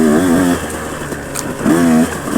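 A KTM 150 two-stroke dirt bike ridden through woods, its engine revving and easing off in loud bursts with a wavering pitch, close to the microphone and without talk.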